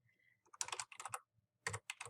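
Keys clacking on a computer keyboard as an author's name is typed in, quick clustered bursts of close, crisp taps separated by short pauses, no voices.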